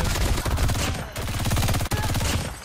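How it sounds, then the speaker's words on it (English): An MG42 machine gun fires in rapid continuous bursts in the mobile game Call of Duty Mobile, loud and close, with one short break in the stream of shots. "Dude, even, like, the hipfire's insane here."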